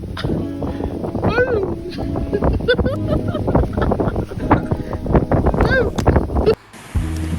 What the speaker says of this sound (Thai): นั่นลมอ่ะ